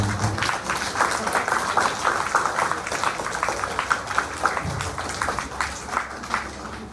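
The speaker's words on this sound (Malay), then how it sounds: "Saya rasa kita bagi satu tepukan untuk Tuan Haji Muhammad Fadil." Steady applause from a crowd at a teacher's retirement ceremony, a continuous patter of many hands clapping at moderate volume for several seconds.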